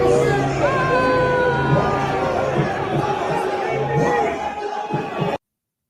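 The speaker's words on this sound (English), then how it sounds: "Devin Haney just got booed walking into the Crawford fight." Loud, dense crowd noise fills an arena as Devin Haney makes his ring walk into the Terence Crawford fight, a sustained roar of jeers and shouting from thousands of fans that holds steady, then cuts off abruptly.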